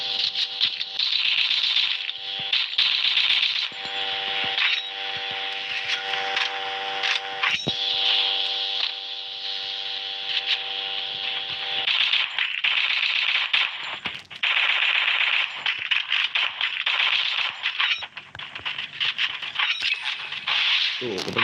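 Rapid, rattling gunfire bursts crackle almost nonstop through a live Free Fire match, loud and close, with brief gaps between volleys and voices talking over the shooting.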